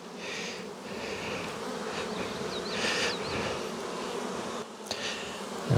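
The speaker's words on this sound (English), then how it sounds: "I have to get up without stepping on bees" Honey bees buzzing around an open hive, a dense, steady drone of many insects close by, with a few individual bees whining past near the middle and a faint handling knock near the end.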